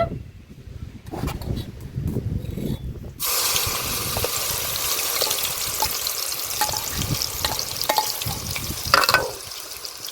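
Ground onions hit hot oil with a sudden loud sizzle, settling into steady crackling frying with occasional stirring scrapes, close by and without voices.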